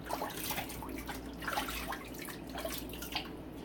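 Water runs steadily from a tap in a bathroom sink while a razor is rinsed after a shave, a soft continuous splashing with faint dripping, close and alone.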